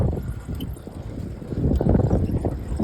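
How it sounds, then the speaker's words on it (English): Strong wind roars and buffets against the microphone, a dense low rumble that swells louder toward the end. "It's really windy. Sorry for the noise."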